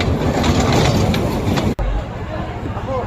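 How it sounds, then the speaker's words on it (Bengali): Train running on rails beside the Titas river, heard as a loud, steady rumble with rhythmic rail noise throughout, briefly cut off near the middle and continuing afterward. "এখন এই ট্রেনটায় আমরা উঠবো।"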